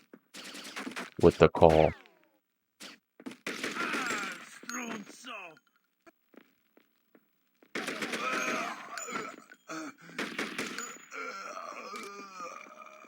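Gunfire in the Gamecube game True Crime New York City, a loud rapid burst early on, then scattered single shots amid game chatter and groans, with quieter stretches between.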